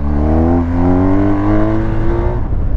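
A BMW R1250 GS motorcycle's boxer engine accelerating hard up close, its throaty drone rising steadily in pitch before easing off near the end.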